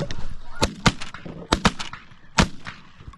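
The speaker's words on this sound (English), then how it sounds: "Nice shooting." Sharp, close shotgun blasts crack out during a bird hunt, several spaced shots mixed with honking geese and faint voices in the background.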